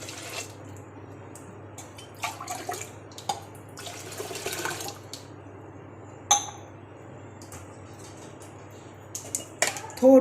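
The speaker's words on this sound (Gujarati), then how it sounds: "હવે હું એમાં 2 ગ્લાસ પાણી ઉમેરીશ।" Water is poured into washed mixed lentils, including chana dal, in a kitchen; intermittent close splashing bursts with a few light clinks over a low background hum.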